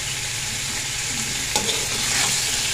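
Boneless chicken pieces for shami kabab frying in a few tablespoons of hot oil, a steady close sizzle with stirring scrapes and a brief clink partway through.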